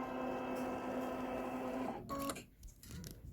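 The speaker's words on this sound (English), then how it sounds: "I've got my machine set up with Deco Bob in my upper thread and Deco Bob down below, and I'm going to go ahead and go to sewing." A sewing machine threaded with Deco Bob thread runs a center straight stitch at 2.0 length, piecing a quilted pillow top. Its steady, close motor whine holds for two seconds, then stops, followed by a few softer handling sounds.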